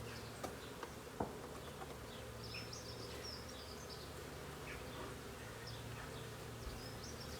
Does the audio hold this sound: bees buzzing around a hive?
yes